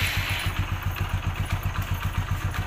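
A motorcycle in a rural Indian village runs loud and close, its engine settling into a steady, rhythmic thumping idle.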